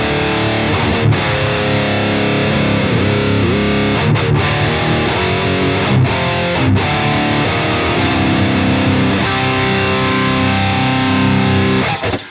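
An Ibanez Prestige electric guitar with an 81 bridge pickup and SA single coils plays through a heavily distorted tone, with sustained chords and riffs ringing out continuously for about twelve seconds, loud and close with no voices.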